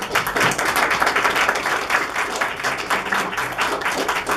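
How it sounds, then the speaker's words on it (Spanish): Sustained applause from an audience at a debate tournament, a dense steady clapping that fills the whole stretch without pause. "Un aplauso a ambos equipos."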